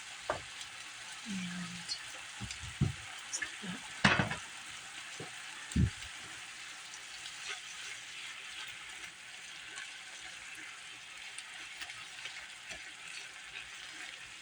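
Garlic sizzles in a pan for beef stroganoff, a faint steady frying hiss with scattered utensil knocks and stirring clatter early on, and a brief word of talk.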